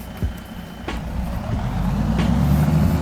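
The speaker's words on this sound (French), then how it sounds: "Ça fait un bruit de camion." Truck noise in Farming Simulator 25, a low rumbling engine that rises gradually in level, with a couple of short clicks and hisses early on and a faint higher tone, fairly close with no talk.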